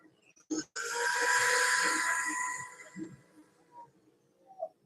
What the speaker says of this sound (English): you don't want to keep the sanding in one spot too long